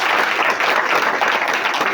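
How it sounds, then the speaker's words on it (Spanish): Dense, loud applause from an audience fills a book presentation for the title Estrategia con Alma, a continuous even clatter of many hands. "Un aplauso,"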